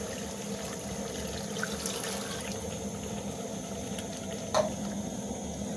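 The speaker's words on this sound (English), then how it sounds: "Then we are going to add a glass of water." A glass of water is poured into a pot of masala chicken curry, a steady, moderately quiet rushing and hissing of liquid that runs throughout, with a brief sharper clink or splash near the end.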